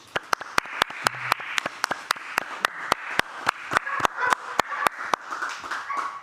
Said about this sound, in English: Could I have a round of applause for Daniel?